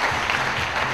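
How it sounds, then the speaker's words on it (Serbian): Audience clapping for the organizers at a fashion show, a brief, even wash of applause from the crowd, moderately loud throughout. "još jedan jači aplauz iz backstage-a, iz publike, molim da čujem za sve organizatore ovde"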